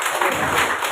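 A church congregation at a Sunday worship service claps for their pastor, a short dense burst of applause from many hands filling the room.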